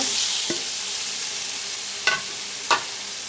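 Cut cucumbers are tossed into a pan of frying spices and stirred, giving a steady sizzle under a few sharp scrapes and clatters of the spoon against the pan, with no voices.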